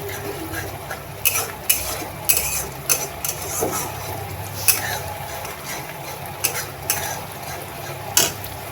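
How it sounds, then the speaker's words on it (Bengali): Masala spices frying in oil in a pan for an aloo bhaja and mixed vegetable dish, with a soft sizzle under repeated sharp scrapes and clinks of a spatula stirring against the pan. "মশলাটা একটু ভাজা ভাজা হোক"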